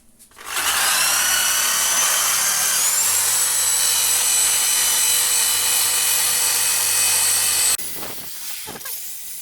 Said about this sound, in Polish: polecam wiertarkę z taką właśnie szczotą i po prostu po kawałku, po kawałku jedziemy po karterach